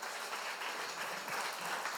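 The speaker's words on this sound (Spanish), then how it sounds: "Démosle un aplauso al Señor." Church congregation applauding during a Spanish-language sermon, a steady, even wash of many hands clapping at moderate distance, fairly quiet and without talk.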